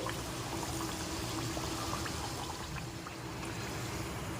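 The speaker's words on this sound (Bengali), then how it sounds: "আমি একটা একটা করে কচুরি ভেজে নিচ্ছি" Paneer-stuffed kachori deep-fry one at a time in hot oil, giving a steady, dense bubbling sizzle that stays even and fairly close throughout with no voices.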